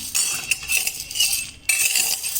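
Chana dal dry-roasts in a pan with no oil, the lentils rattling with sharp metallic clinks and scrapes of a stirring spoon, close and fairly loud in uneven bursts.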